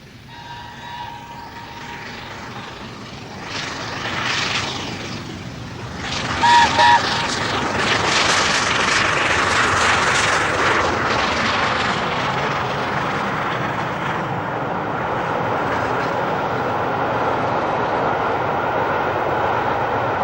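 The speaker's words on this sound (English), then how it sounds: "we end with the record holder Mallard during her glorious 1988 summer" LNER record-holding steam locomotive Mallard running on the main line in summer 1988, a swelling roar of exhaust and rolling train noise building from moderate to loud and holding steady, with a brief whistle near the middle.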